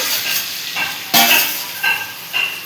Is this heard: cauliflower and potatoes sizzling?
yes